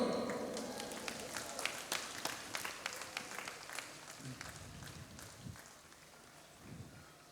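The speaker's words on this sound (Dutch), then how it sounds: "Een hartelijk applaus voor Sportkerk Dokkum" Scattered, faint applause from a crowd at an outdoor Sunday church service rises briefly and then fades, with a voice heard toward the end.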